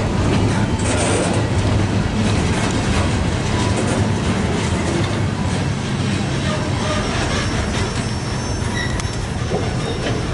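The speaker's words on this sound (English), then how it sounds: "And there it goes. Another train." A southbound train rolls past close by with a continuous loud roar of wheels and cars, carrying intermittent metallic squeals and rattling throughout.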